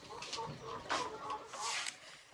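Mardi chickens on a poultry farm cluck and squawk in short, fairly close bursts, several birds calling over one another.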